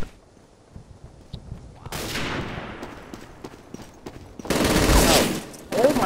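Machine gun fire in the World War II shooter Day of Defeat: Source, heard as loud, dense bursts: a shorter rattle near the two-second mark, then a longer, heavier burst near the end.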